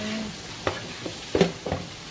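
Pork ribs sizzle in oil in a wok for sweet and sour pork, with a steady frying hiss broken by a few short stirring scrapes and clinks, heard up close with no talk.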